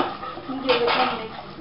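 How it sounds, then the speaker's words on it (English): Fresh cream is mixed into a paneer tikka marinade in a bowl, a brief burst of soft, wet stirring and scraping at close range over a quiet background. "and give it a mix."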